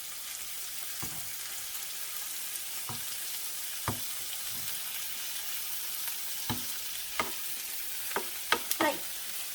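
Pork pieces brown in a hot pan for a pork curry, giving a soft continuous sizzle broken by a few sharp spatula knocks and scrapes that come more often near the end; no one speaks.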